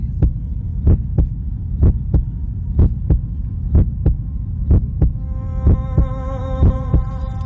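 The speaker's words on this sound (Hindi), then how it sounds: "तुम्हारी वॉइस सुनते मेरी दिल की धड़कनें तेज हो गई। सुनोगे? मेरी धड़कनों की" A fast heartbeat sound effect thumps in regular paired beats over a low throbbing hum, loud and close, with soft sustained musical tones rising in near the end.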